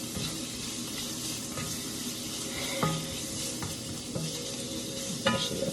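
Shrimp sizzle steadily in a cast iron pan, a continuous close frying hiss with occasional clinks and stirring scrapes over the crackle.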